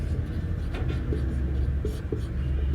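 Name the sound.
writing lines during a maths lesson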